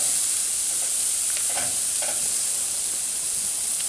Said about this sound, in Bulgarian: Дойде време да обърнем пържолките.